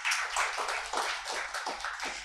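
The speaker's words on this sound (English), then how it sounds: "we should give a round of applause to Dr. Swetha and Dr. Dhanush" Audience at an academic symposium talk on EMI/EMC analysis giving a round of applause, a dense, even burst of many hands clapping for a couple of seconds, moderately loud.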